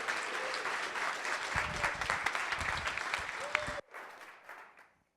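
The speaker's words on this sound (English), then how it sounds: "Yes, let's give a standing ovation." At a DevRelCon developer-relations conference talk, the audience gives a standing ovation. Loud, sustained clapping fills the room, then drops off sharply and trails away into scattered claps.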